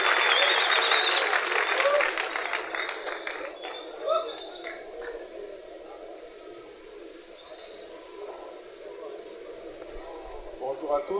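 An audience of students claps for a guest at INBTP, a dense burst of applause that fades over several seconds, with birds cooing and chirping in the background and voices nearby.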